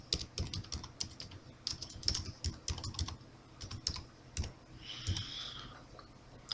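Fingers type a message subject line on a computer keyboard, a quick irregular run of crisp key clicks with short pauses, close and alone without talk.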